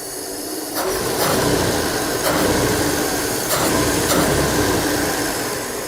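A Volvo 240 engine, freshly tuned, idles steadily at close range with a constant rumble and a few faint clicks or taps along the way, no voices heard.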